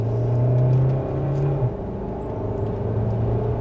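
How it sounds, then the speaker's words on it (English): A 2026 Kia Sorento Hybrid SX Prestige pulling away in sport mode, second gear, with a steady low engine hum and whir that rises briefly then settles into a smooth cruising drone, heard from inside the cabin. "But with a small acceleration, we are up to speed for the Kia Sorento."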